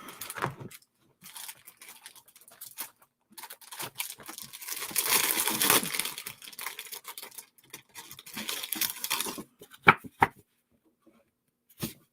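Sheets of designer series paper are handled at a craft table for making a card, giving close, intermittent crinkly rustles and soft pats that swell in the middle and then trail off into a few isolated taps.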